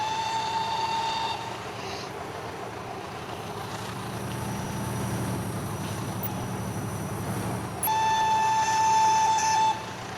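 Train horn sounding twice, in bursts at the start and again near the end, over a steady rumble of rolling rail cars.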